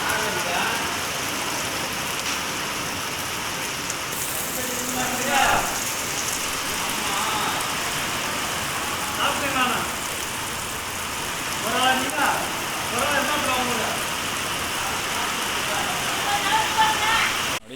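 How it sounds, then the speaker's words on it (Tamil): Steady, heavy summer rain with strong wind hisses continuously with a gusty roar in a village, while a person's voice is faintly heard now and then beneath it. "சரியான காற்று விட மழை"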